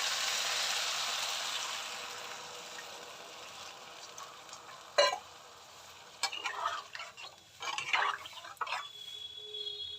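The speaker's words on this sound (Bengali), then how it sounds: "এবার আমি জল ঢেলে দেবো।" Water poured into a sizzling spiced fish curry: a loud steady hiss fades gradually. Then a sharp clatter and bursts of bubbling, stirring and spluttering follow close by, with no voices.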